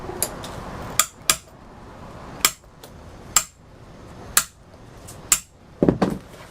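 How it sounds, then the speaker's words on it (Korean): A hammer drives metal eyelets into a handmade hiking boot with about seven sharp, close metallic strikes at uneven intervals, separated by quiet pauses. "망치로 때려 단단히 고정시켜줍니다."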